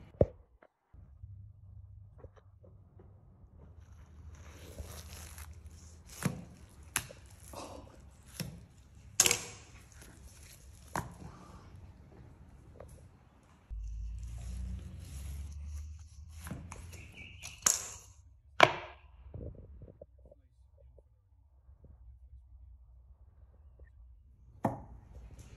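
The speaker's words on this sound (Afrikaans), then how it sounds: "So ons sny hierdie beestrip lengtes waar jy ordentlike stuk vleis bo op jou beenrib kry." Beef ribs being cut into lengths on a board for smoky BBQ ribs, with sharp chopping knocks scattered irregularly and several louder blows standing out over a low background rumble, no talk.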